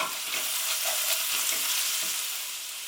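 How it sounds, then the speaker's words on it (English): Vegan shepherd's pie filling simmers in a pan and gets a stir, a steady soft sizzle and hiss with a few gentle scraping strokes, close and moderately quiet. "Okay, this has been cooking for about 10 minutes. Let's give it a good stir."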